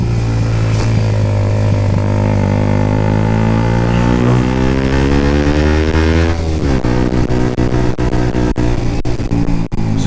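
A motorbike being ridden, its engine droning loud and close with strong harmonic tones that rise as it accelerates, then rougher clattering wind buffeting toward the end.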